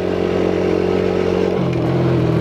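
A Chinese three-gear quad bike's engine drones steadily and loudly while riding, a constant mid-pitched hum that shifts down slightly in tone near the end.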